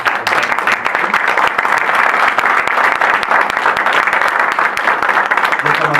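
Loud, sustained applause from the audience at a Spanish-language academic talk on novels and film, a thick, continuous roar of many hands clapping that fills the whole stretch.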